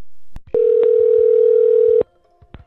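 A steady, loud telephone dial tone holds for about a second and a half on a recorded phone call, bracketed by short clicks and line noise, with no talking.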